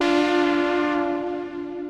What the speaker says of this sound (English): And it's Synth Empire. It sounds like this.